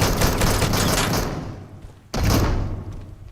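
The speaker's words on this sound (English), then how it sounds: "I'm gonna throw some grenades down first" Grenades going off in the shooter game Deadside: two loud, close blasts, the first rolling out into a fading rumble before the second cuts in sharply and sustains.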